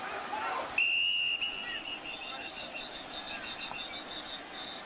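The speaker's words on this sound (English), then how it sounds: "And a whistle and a penalty" A referee's whistle blows at an American football game between the Raiders and Redskins in 2009: a sharp, piercing blast cuts in shortly after the start and rings steadily over a constant crowd roar.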